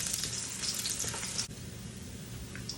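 Garlic sizzles and crackles in a hot pan, the start of cooking vegetables for a traditional Filipino pancit bihon; a steady, close, fairly quiet frying hiss with stirring, no talk.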